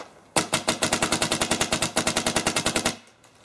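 A MacDev Droid paintball marker fires a rapid string of about twenty evenly spaced, sharp shots in just over two seconds, loud and close, with a short pause before the burst.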